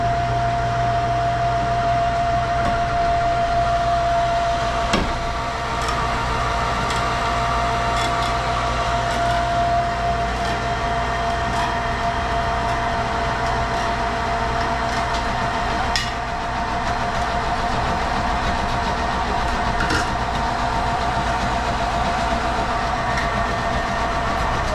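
A homemade electric elevator lift in a garage or barn climbs its rails with a steady, loud mechanical whir and hum, broken by a faint rhythmic clicking and rattling that continues unbroken throughout.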